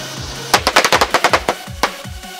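A lit explosive in a video game bursts like fireworks, giving a rapid string of about a dozen sharp, loud cracks, then one final pop. No one speaks.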